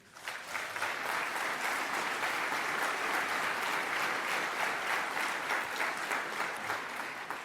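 Steady, full applause from a large audience at an awards gala, continuous dense clapping that holds at an even level for several seconds.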